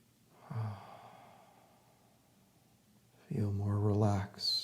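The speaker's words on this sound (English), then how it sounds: "Take a few deep breaths." Slow, deep breathing in a calm meditation setting: one long audible exhale, a quiet pause, then a fuller, voiced sigh-like breath.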